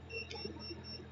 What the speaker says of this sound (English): The beeping sound you can hear is the tyre pressure monitor telling me that the tyres apparently have low pressure